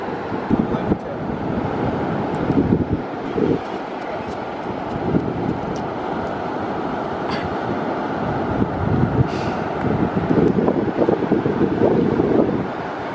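Wind blowing on the beach at Myrtle Beach, a continuous loud rushing roar buffeting the microphone throughout, with faint surf-like wash underneath.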